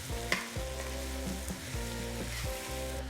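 A spoon stirs food in a hot frying pan after salt, black pepper and cumin go in, giving a steady sizzle with a few rhythmic scraping strokes, close and alone.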